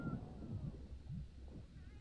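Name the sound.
cat meowing in the video game Sea of Thieves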